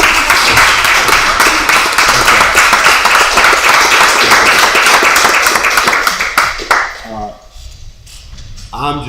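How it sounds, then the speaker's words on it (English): Sustained applause from a school board meeting audience, dense steady clapping for about seven seconds that then thins out and fades, with a voice audible near the end. "I'm going to stand out and clap."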